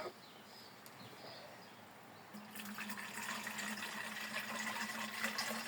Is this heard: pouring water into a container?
yes